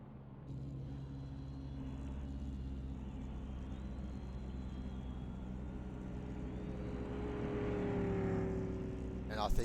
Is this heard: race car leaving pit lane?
yes